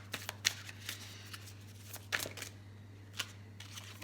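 Tarot cards are shuffled in a series of quick, crisp riffles and flicks, close and fairly quiet, over a low steady electrical hum.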